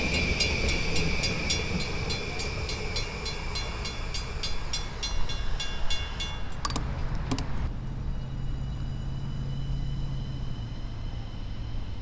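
A ten-car LIRR train on the Montauk Branch pulls away from a station, with a steady rolling rumble, faint clicking, and a brief sharp burst of noise partway through before the sound settles into a quieter low drone.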